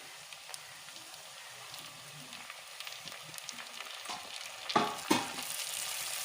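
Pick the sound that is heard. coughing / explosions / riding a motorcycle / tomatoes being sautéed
tomatoes being sautéed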